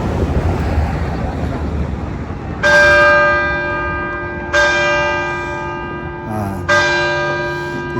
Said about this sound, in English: Church bells of Biella.